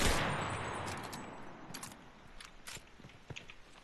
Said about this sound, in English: On the move, this really is not the most accurate machine gun in the world.